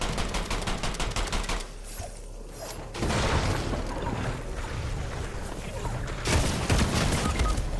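Rapid bursts of gunfire from a battle royale shooter called Legend Landing, with dense repeated shots crackling through much of the stretch alongside other loud game action.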